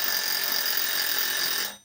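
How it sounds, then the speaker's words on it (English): A timer alarm goes off during a landscape painting session, a loud, harsh, continuous high-pitched ringing that holds steady for nearly two seconds before cutting off abruptly. "according to the timer it's actually gone off a minute early"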